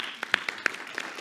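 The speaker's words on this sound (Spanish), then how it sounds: "Siguen aplaudiendo." Scattered claps from a lecture audience, a handful of distinct sharp hand claps spaced irregularly over a low room hum, thin and fading rather than a full ovation.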